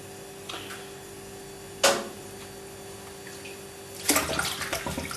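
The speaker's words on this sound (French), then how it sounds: "Alors couler un boyau, ça consiste à introduire de l'eau dedans." Water splashing into and through a salted natural sausage casing while rinsing it for Toulouse sausage, two short bursts with a longer trickling stretch at the end, under a faint steady hum.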